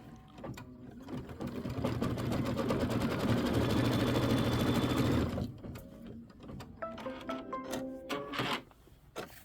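A sewing machine runs a steady quilting stitch for about five seconds, loud and close, then stops and gives a few shorter, uneven bursts of stitching.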